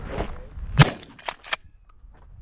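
Gunfire at a 3-Gun shooting match: three sharp, cracking shots in quick, uneven succession, fairly loud and set back slightly from the listener, followed by quiet range ambience.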